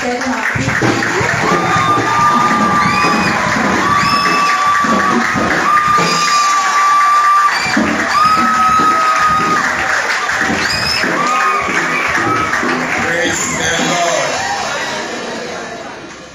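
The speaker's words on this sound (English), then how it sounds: "You guys make me feel like a big man of God when you clap like this." A church congregation claps and cheers loudly, a dense, steady roar of applause with shouts and whoops that fills the room. It continues without a break and then tapers slightly at the end.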